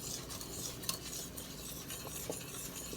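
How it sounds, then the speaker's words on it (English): Homemade fudge mixture at a rolling boil in a pot gives a steady, faint bubbling hiss, with a few light clinks now and then. "This is our rolling boil."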